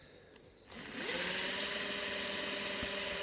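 A small power drill with a very fine bit spins up after a few clicks and whines steadily at high speed, drilling an earring, close and fairly quiet, with no talking.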